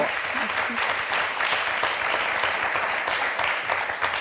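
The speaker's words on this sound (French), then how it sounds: "on vous applaudit très fort" A studio audience on the French game show Motus claps loudly and continuously, a thick, steady round of applause with some voices mixed faintly into the crowd.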